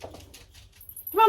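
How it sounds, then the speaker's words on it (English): Dogs at home, several females, giving a short bark or yelp that starts loud and close at the end after near silence. "I don't know why they're barking, to be fair."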